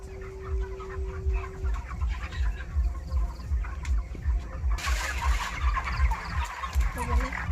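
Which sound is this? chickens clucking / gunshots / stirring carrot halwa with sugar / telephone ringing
chickens clucking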